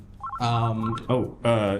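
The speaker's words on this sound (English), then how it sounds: "your phone's ringing" A phone rings with short electronic tones at the start, then voices talk loudly over it.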